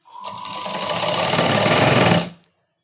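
A sewing machine runs steadily for about two seconds, stitching a princess cut blouse without lining, with a loud continuous motor whir that starts abruptly and stops cleanly.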